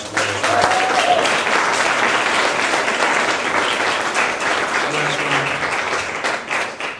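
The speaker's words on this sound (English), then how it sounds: "please give them a big, big round of applause" Sustained applause from a large crowd, steady and loud throughout, with a few faint voices mixed in near the end.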